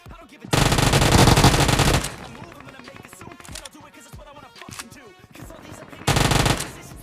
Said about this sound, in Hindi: यहाँ पर भाई गोली चलने की आवाज आती है